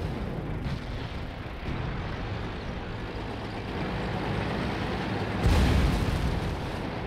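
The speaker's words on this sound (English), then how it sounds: "Artillery coming down" Artillery shells land in the World of Tanks video game, a continuous low rumbling roar with a heavier booming surge near the end, all fairly steady and with no voices.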